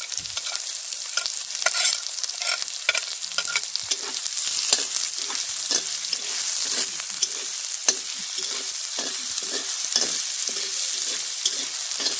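Onions frying in a pan with ginger, garlic and chilli make a steady, loud sizzle throughout, with frequent scraping and stirring clicks from a utensil and no talking.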